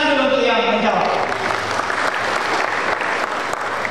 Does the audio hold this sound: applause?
yes